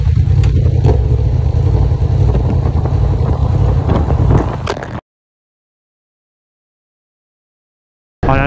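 A 210 hp Yamaha YZF-R1 stage 2 motorcycle rides at low speed, its engine giving a loud, steady rumble under heavy wind buffeting before the sound cuts out abruptly.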